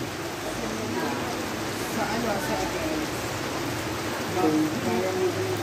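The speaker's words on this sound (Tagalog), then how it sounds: "lalo lumakas ang ulan" Heavy rain pours down in Caloocan City, Philippines, in a dense, steady hiss, drumming evenly on surfaces with no letup, loud and close throughout.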